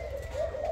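A Malaysian spotted dove gives a brief, close, steady coo, low and tonal with a slight rise in the middle, with no one speaking.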